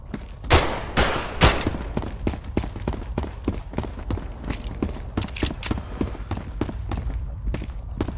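Two loud, close shotgun blasts go off in quick succession in the video game SCP: Nine Tailed Fox, followed by a scatter of fainter rapid shots and clattering impacts.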